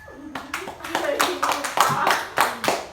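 Pupils in a fourth-grade classroom clap together for a classmate's answer, a close, loud burst of quick irregular hand claps that carries on for about three seconds, with children's voices mixed in.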